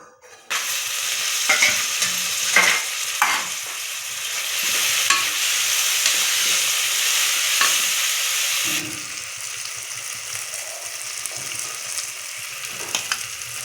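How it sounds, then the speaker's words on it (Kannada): Chopped tomatoes cook in a pan until soft for a soya bean pulao, giving a steady, close sizzle with occasional scrapes and knocks of a stirring spoon, and no talking. "ಕಟ್ ಮಾಡಿ ಇಟ್ಕೊಂಡಿರೋ ಟೊಮೊಟೊ ಹಣ್ಣುಗಳನ್ನು ಹಾಕಿ ಅದು ಸಾಫ್ಟ್ ಆಗುವವರೆಗೂ ಚೆನ್ನಾಗಿ ಬೇಯಿಸಿಕೊಳ್ಳಿ"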